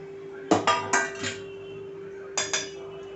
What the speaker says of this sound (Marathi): आता हा मसाला आपण पूर्ण मिक्स करून घ्यायचा आहे चमच्याच्या मदतीने